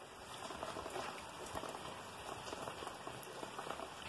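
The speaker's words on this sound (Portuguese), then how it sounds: "Quando chove assim é bênção de Deus." Steady rain falls in winter on a rural farm in Bacuri, planted with corn and beans, making a dense, continuous patter of drops with no voices.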